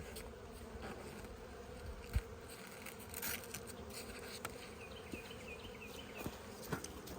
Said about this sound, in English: now I'm going to put my veil on and get into the beehive.